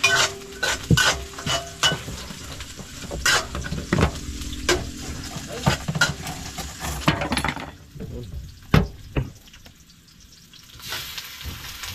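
Garlic and onion sizzle and fry in a pan while a utensil stirs and scrapes, sharp clattering strokes over steady crackling, close and fairly loud, quieting toward the end.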